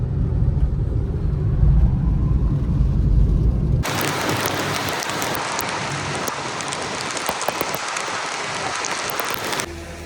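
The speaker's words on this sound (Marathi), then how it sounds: "पाऊस कसा भरलाय बघा" A low rumble gives way abruptly to a loud, constant wash of monsoon rain hissing down at Raigad Fort, which continues until it cuts off near the end.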